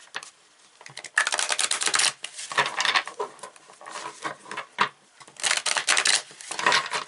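A deck of affirmation cards is shuffled by hand in several quick bursts of riffling and flapping, close and crisp, separated by short pauses, with no talking.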